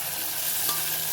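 Capsicum and softened onions fry together in a pan for a soybean dish, a dense, loud continuous sizzle with a faint stirring scrape, no voices.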